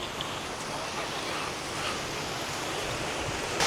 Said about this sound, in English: I've got a nice waterfall here as well.